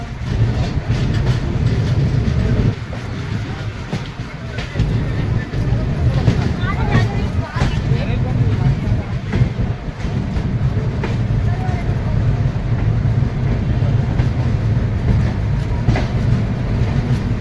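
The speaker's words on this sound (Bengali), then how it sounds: "দুর্গ ছাপড়া সারনাথ এক্সপ্রেস মানিকপুর স্টেশনে দাঁড়িয়ে আছে।" The Durg–Chhapra Sarnath Express stands at Manikpur station with construction work underway, giving a dense, continuous roar of rail noise and heavy machinery, steady and loud throughout, with a murmur of voices and clatter mixed in.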